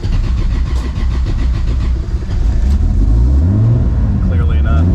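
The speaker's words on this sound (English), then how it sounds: "We'll see if she starts." A car engine cranks and runs rough, loading up and refusing to idle, a loud continuous close rumble whose uneven revs climb and waver toward the end.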